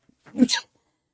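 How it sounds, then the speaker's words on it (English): A single loud sneeze, a sharp short burst close to the microphone, alone with silence around it. "just had a right big sneeze"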